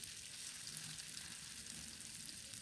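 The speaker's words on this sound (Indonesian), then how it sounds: "Kembali lagi ditumis ya semuanya sampai bumbu ini benar-benar matang dan wangi" Spices fry in oil with lemongrass, galangal, bay leaves and lime leaves, giving a faint, even sizzling hiss that runs unbroken throughout.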